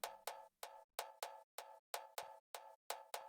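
A transient sample meant for layering with a piano clicks in a steady rhythmic pattern, each short bright knock-like hit decaying quickly, around ten evenly spaced hits heard alone at low level.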